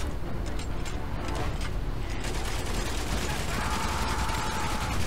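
Dense gunfire from a World War I battle in the Valiant Hearts video game, a steady wash of overlapping shots and explosions running the whole time with a brighter tone rising late.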